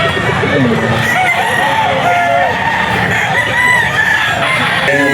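Gamefowl roosters at a pet market, several crowing loudly and overlapping, with clucking and market crowd noise filling the background throughout.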